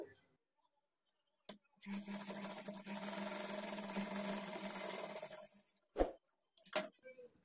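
Sewing machine stitching dot stitches on a blouse, a steady humming run of about four seconds, followed by a few short clicks and bumps.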